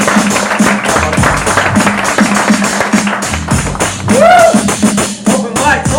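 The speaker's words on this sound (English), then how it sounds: "I want you to put your hands together for the very funny Earl Clark" Crowd at an open mic comedy night claps and cheers for a comedian taking the stage, a dense, steady wash of applause filling the room with a whoop rising near the end.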